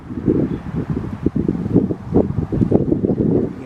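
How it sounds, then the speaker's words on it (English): Strong outdoor wind gusting in irregular surges, buffeting and rumbling close by with a rough, fluttering texture, loud and continuous without speech. "You can hear that wind picking up."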